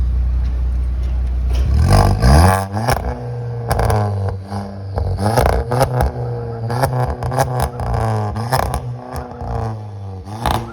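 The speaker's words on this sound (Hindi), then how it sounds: "पीछे वॉल्वेट्रॉनिक एग्जॉस्ट लगेगा। तो आइए मैं आपको इसका एक बार आउटपुट सुना देता हूँ" A Kia Seltos GT-Line with a valvetronic exhaust revs loudly and close by in repeated throttle blips, each rise and fall ending in a rough, crackling exhaust note.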